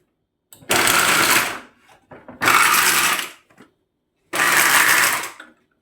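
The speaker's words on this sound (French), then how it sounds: "On va les mixer." A blender whirs in three loud, close bursts of roughly a second each, separated by short pauses, pureeing spinach for a Kabyle galette.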